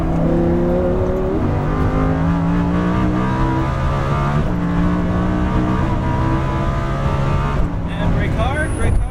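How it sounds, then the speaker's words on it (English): Lamborghini Huracan engine on the Exotics Racing LA track, revving loudly and steadily as the throttle is squeezed, its harmonic tone climbing and shifting through the run while an instructor talks over it. "Now start squeezing the throttle, coming out to the right"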